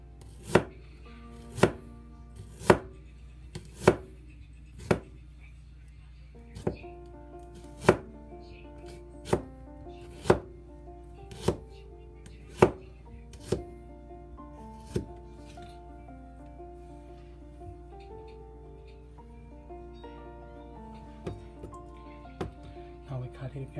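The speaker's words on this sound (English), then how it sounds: "This is the third way to cut the ginger you use in the Chinese dishes. You slice it as thin as possible." A knife slices ginger as thin as possible for Chinese dishes, about a dozen crisp, evenly spaced chops on a board up close, followed by softer, quicker cuts toward the end.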